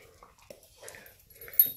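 A dog whimpering softly in a quiet home, a few brief thin whines and yips spread unevenly, close and fairly faint, ending in a slightly louder cry.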